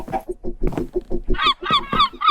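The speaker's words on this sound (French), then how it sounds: "Il y a des mouettes, on est à côté de la mer." Harsh honking gull calls in Minecraft repeat in quick succession, loud and close, like gulls crying near the water.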